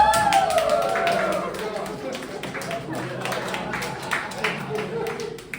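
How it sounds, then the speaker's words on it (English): A contest audience claps and cheers after a humorous speech, scattered hand claps sounding fairly close, with a voice talking over the noise. "Everyone, stand up, cheer, and clap."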